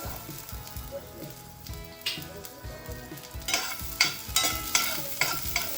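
Finely chopped ginger and garlic frying in hot oil for a baby corn chilli starter, a close crackling sizzle broken by repeated scraping stirs that grow louder and busier toward the end.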